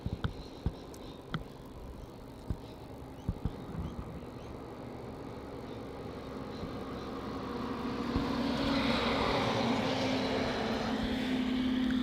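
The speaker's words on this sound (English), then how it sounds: "we have Qantas flight QF615 landing from Brizzy. It's a 737-800." A Qantas Boeing 737-800 landing on runway 16 at Melbourne Airport, the jet's engine roar rising gradually from distant to a loud, broad rumble as it nears and slows, with faint clicks early on.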